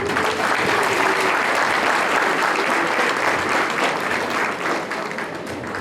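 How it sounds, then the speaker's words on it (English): Sustained, dense applause from an audience at a family union day celebration fills the space loudly and evenly, continuing without a break for several seconds with no speech over it. "Let us clap for her again."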